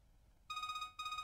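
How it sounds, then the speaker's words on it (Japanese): A telephone rings in the DS detective game Jinguji Saburo, two bursts of bright electronic ringing, loud and alone after a quiet start. "その時、唐突に電話の音が鳴り響いた。"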